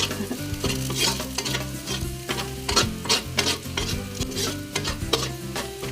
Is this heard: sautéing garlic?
yes